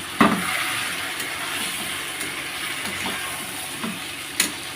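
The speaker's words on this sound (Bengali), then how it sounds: "দিয়ে আমি এবার এটা খুব সুন্দর করে কষতে থাকবো।" Chicken curry is stir-fried with spices in a pan, making a soft continuous sizzle and hiss with a few sharp knocks of a utensil against the pan.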